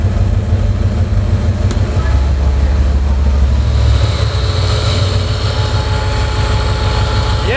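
Dad's truck engine idling just after starting for the first time, with an exhaust leak: a loud, continuous low rumble with deep throbbing, easing slightly partway through and holding steady to the end.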